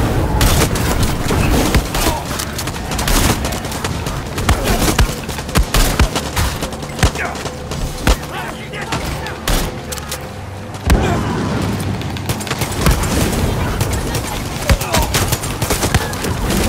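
Repeated shotgun slug rounds fired in the Far Cry 6 video game, a loud, dense barrage of booming blasts with explosions layered throughout, running continuously and close with no clear gaps.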